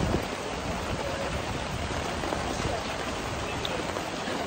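Steady, dense rain falls outdoors in Barbados, a constant close hiss of drops on surfaces that runs unbroken throughout with no talk over it.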